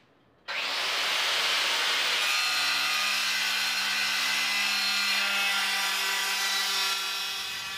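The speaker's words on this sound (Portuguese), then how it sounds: "Agora eu tenho que cortar com a serra mármore" A handheld marble saw cuts a ceramic tile for a bathroom finish: the motor spins up sharply, then a loud, steady, close whine with a grinding cutting tone holds for several seconds before winding down.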